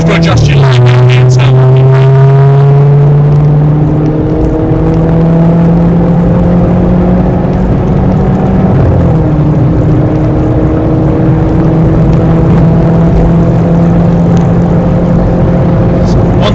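Race car engine lapping the Snetterton 300 circuit, loud and continuous from inside the car, with rising pitch sweeps through the gears, a drop as it slows, then a sustained high whine, while a driver talks over it.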